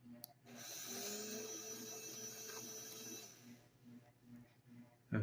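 A small hobby motor driven by a Raspberry Pi Pico W over Bluetooth with PWM speed control whines steadily and close up, its pitch rising as it speeds up, then cuts off briefly near the end.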